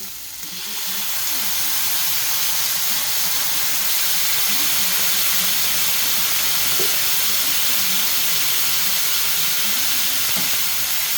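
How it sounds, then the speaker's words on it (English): Steady, loud hiss of steam rising from a little water added to chicken and cheese schnitzels on a hot flat-top griddle, continuous and close, with faint clanks in the background. "put some water with them, just a little bit, just to give them a bit of a steam."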